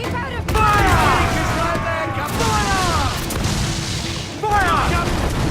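Naval cannon fire in a sea battle from Assassin's Creed IV Black Flag: heavy booming volleys crack out repeatedly, loud and close, under shouted crew orders and music.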